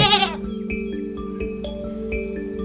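A baby goat, a kid, gives one loud, close, wavering bleat at the start, followed by soft background music with plucked notes.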